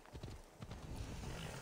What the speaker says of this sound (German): man kann jetzt gedrückt halten und das Pferdchen reitet uns direkt zur nächsten Quest.